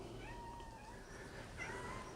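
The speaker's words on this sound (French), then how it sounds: "Oui, le chat. C'est le chat." A house cat meows softly a few times nearby, faint short cries over a steady low background hum, no talking.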